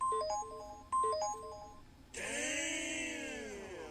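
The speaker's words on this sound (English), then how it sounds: "I hope my phone's up loud enough that you guys can actually hear that" A mobile phone plays an electronic ringtone: two short repeated bursts of bright stepped beeps, then a louder sustained warbling melody with rich harmonics, close and alone.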